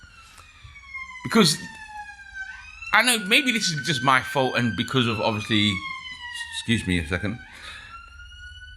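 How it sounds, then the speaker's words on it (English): Wailing emergency sirens rise and sweep in the background while someone talks over them in the foreground. "Excuse the sirens."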